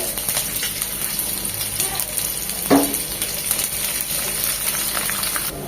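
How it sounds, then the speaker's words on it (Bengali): Onions frying in hot soybean oil in a pan, giving a steady crackling sizzle throughout with one brief clink partway through, moderately close and without voices. "তেলটা গরম হয়ে এসেছে দিয়ে দিচ্ছি দু চামচ পেঁয়াজ"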